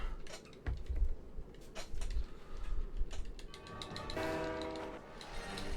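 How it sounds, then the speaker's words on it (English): A train in the game Disney Planes rumbles and clatters along with a sustained horn blast near the end, accompanied by clicking sounds and rhythmic mechanical noise. "We are racing a train."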